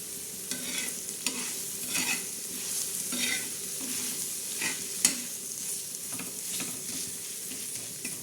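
Ridge gourd peel fibres roasting with green chillies and garlic in a pan, a continuous soft sizzle broken by repeated scraping stirs and occasional sharper spatula taps, steady and close, with no talking.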